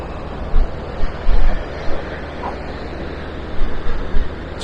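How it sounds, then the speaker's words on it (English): Strong wind buffets the microphone in gusty bursts at the Cromer seafront near the pier, with a steady rush of sea and surf underneath. "It's windy, it is."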